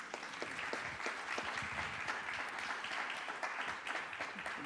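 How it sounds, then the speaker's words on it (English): Steady applause from an audience, a dense patter of clapping that stays even throughout, moderately faint and heard from a little distance. "We can give that a big round of applause."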